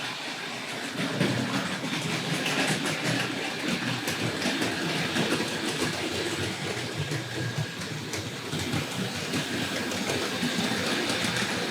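Hornby Dublo 0-6-2 tank model locomotive pulling tank wagons around a layout, a steady close rolling rumble with faint rail clicks that runs unbroken for the whole stretch and has no talk over it.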